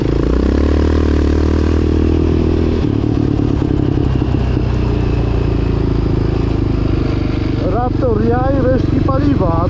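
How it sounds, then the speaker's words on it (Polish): A Yamaha Raptor 700 quad idles and rumbles loudly in a city centre, its exhaust giving a constant deep throb close by, with a rider's voice heard over the engine. "Mam nadzieję, że nikomu mój wydech nie będzie przeszkadzał."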